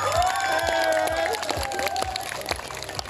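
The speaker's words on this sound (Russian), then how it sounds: "Ваши громкие аплодисменты ребятам." Audience applause and cheering fill a comedy show hall at a League of Laughter event, steady and loud, with a crowd clapping throughout while some voices and shouts rise over it.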